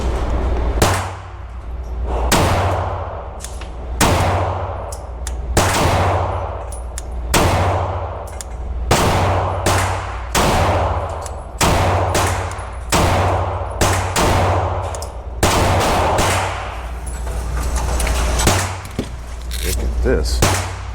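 A Glock 47 pistol fitted with a Radian Ramjet and afterburner fires about ten loud, sharp shots at a steady pace, each crack followed by a short ring-out, with low wind or background rumble throughout.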